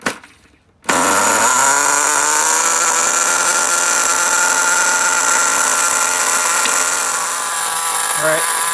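An HPI RS4 3 Evo with an SH-18 nitro engine, during break-in, starts after a brief pull and then holds a loud, steady, high-pitched buzzing idle for several seconds.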